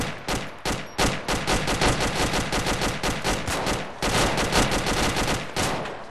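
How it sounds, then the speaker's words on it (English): Dense, loud bursts of automatic gunfire in the survival video game DayZ, with rapid overlapping shots that continue with little pause. "I'm getting shot pretty damn hard."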